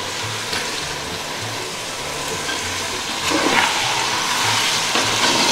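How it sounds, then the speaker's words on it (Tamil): Half a kilo of chicken sautéing in a pan of fried ginger-garlic masala, a steady close sizzle and hiss with stirring scrapes and a brief louder flare midway, no talking over it. "சிக்கன் சேர்த்து அது வதங்கிட்டு இருக்குது"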